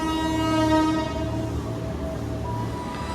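Train departing Solo Balapan station in Indonesia, a loud sustained horn blast over the rumble of moving railcars, with no talk.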